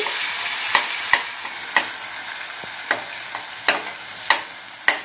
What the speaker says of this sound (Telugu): ఇలా తాలింపులు వేసుకొని ఒక్క 1/2 నిమిషం ఇలా ఆయిల్లో మగ్గనిద్దామండి.